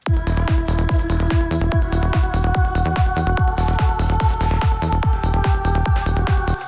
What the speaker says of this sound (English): but I have this female choir behind it that fills up the space